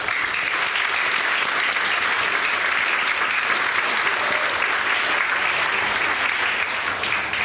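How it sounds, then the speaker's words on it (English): Sustained applause from a school audience at a spring band concert for sixth and seventh graders, dense and steady clapping filling the room at an even level throughout. "Give them all a round of applause."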